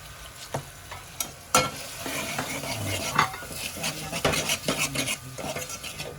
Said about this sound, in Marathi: असा मसाला परतून जरा भाजून घ्यायचा